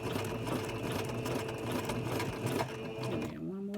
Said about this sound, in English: get a few stitches back and forth just to make sure it's secured good. And I do a back stitch